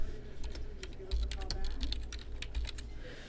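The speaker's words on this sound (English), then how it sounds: "The first step is to begin typing your message." Typing on a computer keyboard while composing a push notification message, a run of quick irregular key clicks close to the microphone with a voice talking faintly underneath.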